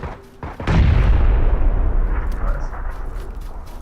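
Grenade explosion in the video game PUBG: a single heavy boom bursts out and rolls into a long, low, decaying rumble, with a player speaking briefly just before it.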